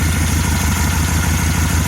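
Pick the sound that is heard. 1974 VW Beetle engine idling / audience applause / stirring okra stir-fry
1974 VW Beetle engine idling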